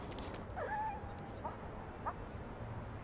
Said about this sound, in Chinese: 哪儿狗叫？